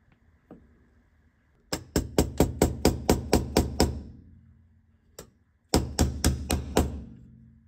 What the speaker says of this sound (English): I'm going to use the Bergeon machine to do this bushing